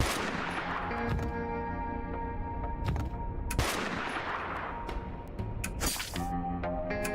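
Gunfire volleys ring out in the video game Dustland Delivery, with repeated sharp shots and bursts overlapping in quick succession, loud and close, over a steady droning game background.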